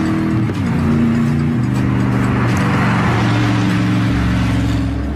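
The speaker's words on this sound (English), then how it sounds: "the only thing disturbing the peace are light aircraft and the occasional low-flying supercar." A Gumpert Apollo supercar drives past at an airfield, its engine loud and close with a steady drone that shifts pitch as it goes by and settles lower near the end.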